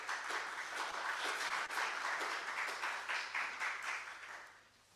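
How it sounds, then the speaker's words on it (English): An audience at a World IP Day conference claps for a speaker walking back to his seat, a steady roomful of applause with distinct hand claps that carries on evenly and then fades away at the end. "Can we clap until he gets to his seat?"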